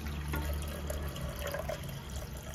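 Water is poured into a pressure cooker while mutton curry is being made, producing a soft, faint, continuous splash and trickle lasting a couple of seconds.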